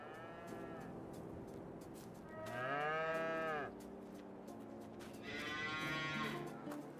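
Cows mooing in the Farming Simulator 22 video game, two long drawn-out moos a few seconds apart over a quiet farm ambience, near and clear with no talk.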